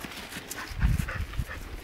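A Siberian husky outdoors makes close panting and scuffling sounds with soft thumps, moderately loud against a noisy background.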